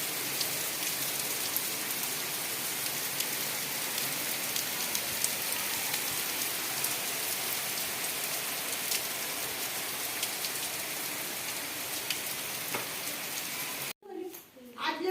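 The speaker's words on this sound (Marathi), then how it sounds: "रात्रीचा किती जोरात पाऊस पडतोय" Dense, steady rain pattering hard on surfaces, continuous hiss with scattered drops, then abruptly cut off near the end by a brief softer sound.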